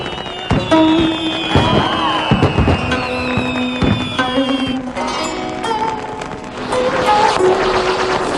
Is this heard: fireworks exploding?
yes